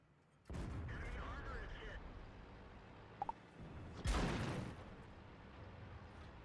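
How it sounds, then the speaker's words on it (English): A tank gun fires an APCR round in the video game World of Tanks, likely from an Object 140: one sharp, loud boom follows a stretch of voice-like sound and engine rumble. "Firing APCR because, well, he's bad."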